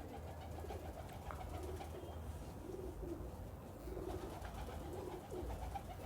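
Pigeons, breeder females, give soft rhythmic coos in repeated rolling phrases, close but quiet, over a low steady background hum.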